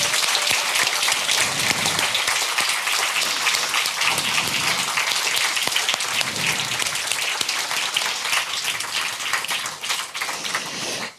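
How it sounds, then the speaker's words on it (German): Loud, sustained audience applause at a Jugend hackt youth hackathon closing presentation in Frankfurt am Main, dense clapping filling the room throughout and tapering slightly at the end. "Bei denen wollen wir uns einmal mit einem ganz großen Applaus bedanken."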